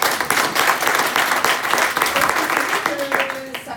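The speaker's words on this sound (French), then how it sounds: "Et ça aussi, applaudissez-vous." An audience at a Sunday morning talk breaks into loud, sustained applause, dense clapping filling the room from start to finish, with a voice speaking briefly near the end.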